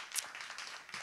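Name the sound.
audience applause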